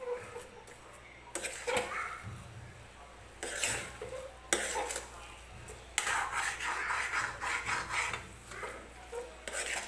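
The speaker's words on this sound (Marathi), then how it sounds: "साखर टाकल्यानंतर हे व्यवस्थित आपल्याला मिक्स करून घ्यायचं आहे" Mango shira mixed with sugar in a pan: a spoon scrapes and rubs against the metal in irregular bursts, some close and sharp, others softer.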